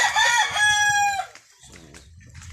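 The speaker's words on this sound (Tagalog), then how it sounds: "Ari na yung manok ko." A rooster on Bantayan island lets out one loud, close crow lasting over a second, followed by a few softer clucks and scratchy farmyard sounds.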